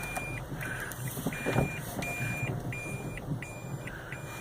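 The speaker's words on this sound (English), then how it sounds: "there's the beeping for the reverse" A taxi's reversing alarm sounds as a steady run of evenly spaced high beeps over a low idling engine and street traffic, fairly close and alone without talk.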